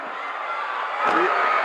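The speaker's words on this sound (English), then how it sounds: "Listen to this crowd. Oh, what a tremendous uproar as they battle." A wrestling arena crowd at a 1985 Kamala vs. Butch Reed match keeps up a steady, dense roar that swells louder near the end.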